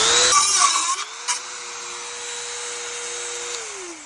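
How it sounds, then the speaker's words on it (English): A power tool grinds out bolts while a shifter console is fitted into a 2022-24 Ford Maverick. There is a brief rough contact at the start, then a high, steady whine that holds its pitch before dropping away at the end. "you're having to freaking grind out bolts that are in the way"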